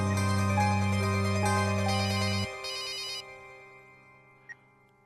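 A telephone ringtone plays a loud, steady electronic tone with bright harmonics for a few seconds, then drops to a quieter ringback pattern that fades away.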